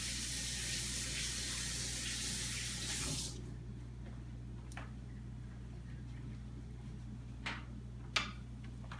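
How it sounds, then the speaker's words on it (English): Water from a kitchen tap runs loudly for about three seconds while hands are washed and a bowl rinsed, then cuts off, leaving a few faint clicks and clinks close by. "I'm going to go ahead and wash my hands and rinse this bowl out"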